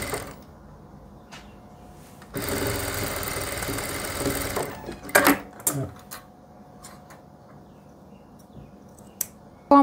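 Sewing machine running in a steady burst as lace is stitched along the hem of a salwar bottom, followed by short clicks and handling noises of the fabric, with no talking.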